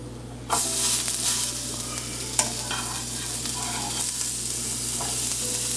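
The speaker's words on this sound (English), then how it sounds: "put the heat on medium and roast it for a couple of minutes" Bell pepper and onion rings roast in a pan over medium heat with a loud, steady sizzle that starts abruptly, joined by occasional close stirring scrapes, with no talking.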